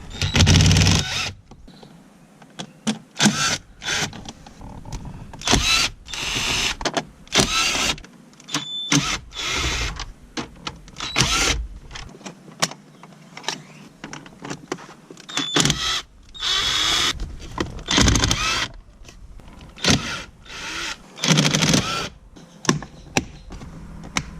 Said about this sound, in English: let's remove some bolts here